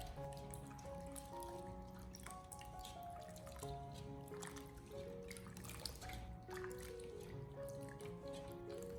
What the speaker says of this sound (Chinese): 然后再下手将土豆片清洗一下，清洗掉土豆片表面的一些淀粉